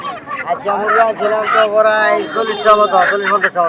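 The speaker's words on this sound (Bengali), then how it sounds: "দেখেন খুবই চমৎকার অনেক সুন্দর সুন্দর মুরগি" Domestic fowl at a village market call out in loud, nasal honking squawks that overlap in quick bursts, close by and busy throughout.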